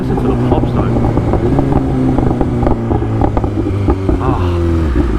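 A BMW S1000RR motorcycle idles and blips loudly up close, its deep throbbing exhaust note broken by rapid crackling pops and sputters.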